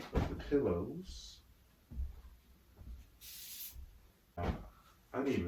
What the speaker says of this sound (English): I'm gonna do a quick spray of the pillows